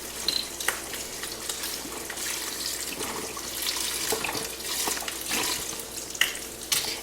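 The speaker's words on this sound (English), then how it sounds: "I'm adding 4 cups of chicken broth." Four cups of chicken broth pour into a soup pot, a continuous splashing, gurgling stream up close with small clinks and sloshes, no talking.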